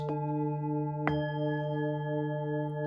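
Singing bowls sounding the same tone in different octaves: a soft strike at the start and a sharper one after about a second, then layered steady harmonic ringing that sustains quietly throughout.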